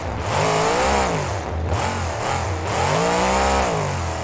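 Gravedigger monster truck with a 540 cubic inch engine revving hard in BeamNG, loud and continuous, with pitch swelling and dipping through repeated throttle surges while airborne over a tabletop jump; no talking.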